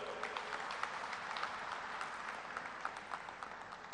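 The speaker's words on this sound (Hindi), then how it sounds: "उनके लिए जोरदार तालियां बजाओ" Audience applause at a film festival opening ceremony in India, a continuous wash of many hands clapping, fairly distant and quiet, with scattered sharper claps standing out from the steady patter.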